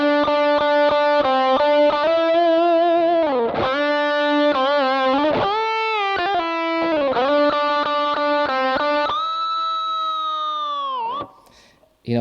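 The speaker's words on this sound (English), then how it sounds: "this distortion setting, this is basically the most gain this box has to offer" A heavily distorted electric guitar played through a Rock-Box distortion box at its maximum gain setting plays loud, saturated chords and riffs, then lets a final chord ring out and fade.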